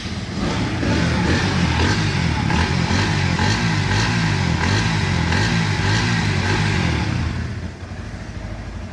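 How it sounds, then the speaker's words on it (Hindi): A Bajaj Pulsar NS160 motorcycle engine idles loud and close, its steady revving rumble holding for several seconds before easing off toward the end. "इंजन साउंड में स्टार्ट करके आपको सुना देता हूँ कि ये बीस्ट किस तरह दहाड़ती है।"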